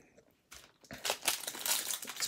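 Paper wrapper from a 2019 Bowman Draft baseball card pack crinkling up close, starting quiet then building into a dense run of crackly rustles.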